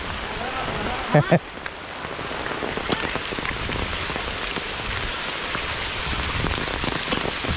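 Steady rain falls on surfaces in a Konkan village, a continuous close patter with a couple of sharp knocks early on and faint voices in the background.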